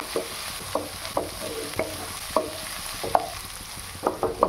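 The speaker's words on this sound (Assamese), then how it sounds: "তেল গৰম হৈ গ'ল। মই এতিয়া দি দিওঁ পিঁয়াজ, আদা আৰু এইফালে ৰচুন, নহৰু।" Onion, ginger and garlic stir-fried in hot oil for chow mein: a steady sizzle with a spatula scraping and tapping the pan every half second or so, close and alone.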